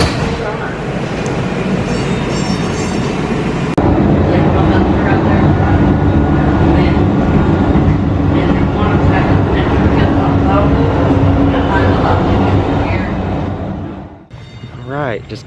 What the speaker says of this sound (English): But we got our train here, and so they all connect, which is nice.